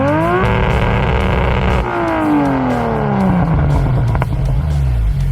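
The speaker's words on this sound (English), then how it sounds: "listen to two V8s sending it at the same time" Two V8 engines rev hard together, loud and close, their pitch climbing and then sweeping down in overlapping roaring tones.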